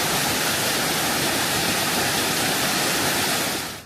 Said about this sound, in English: There's another really cool view of the waterfall.